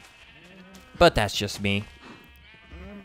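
Several sheep bleat in a video game farm, wavering cries spread across the moment, with someone speaking over them in the middle.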